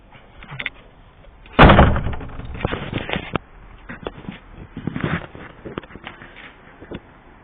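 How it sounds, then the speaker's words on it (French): A door in a garage is pulled shut with one loud, sharp slam, followed by lighter knocks and rattles. "On ferme la porte."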